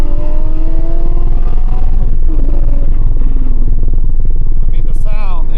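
A Porsche 718 Cayman or 911 sports car engine rumbles and revs while driving, with rising and falling engine tones, close and loud, as someone talks over it.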